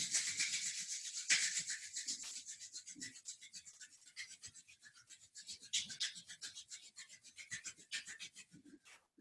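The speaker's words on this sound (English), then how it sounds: "rubbing the palms." Two palms rub briskly together during seated Eight Brocades qigong, a quiet, rapid, evenly rhythmic dry swishing that runs on for several seconds, close and soft, with no talk.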